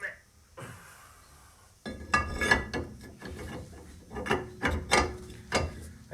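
Toyota Celica MA45 Super rear brake rotor being fitted onto a car hub, a burst of metallic knocks and clinks after a quiet start, close and moderately loud with a voice nearby.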